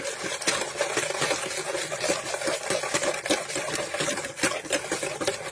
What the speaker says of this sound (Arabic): هقلب الحاجات دي الاول